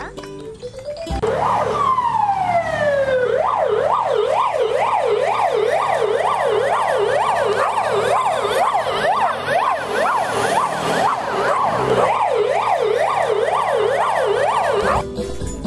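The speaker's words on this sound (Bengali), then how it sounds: "ওই তো অ্যাম্বুলেন্স চলে এসেছে।" A loud two-tone ambulance siren wails up and down in a fast, regular cycle, close by and continuous for most of the clip, preceded by a brief rising whoop.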